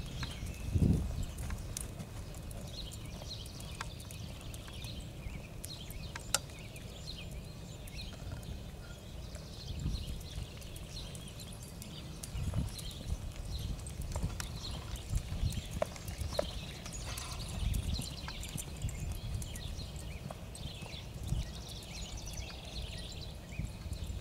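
A ridden horse's hooves clip-clop in a steady, even rhythm outdoors, moderately close and alone without talk, with faint birds in the background.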